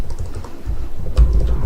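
Someone types text into a text box on a computer keyboard, a quick, close run of muffled key clicks and taps, with no talking.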